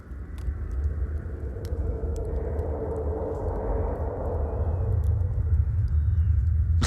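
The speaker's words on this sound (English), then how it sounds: "And it's just a big old storm." Low, continuous thunder rumbles from a storm in the video game S.T.A.L.K.E.R. Gamma, deep and building slightly louder, with faint scattered clicks above it.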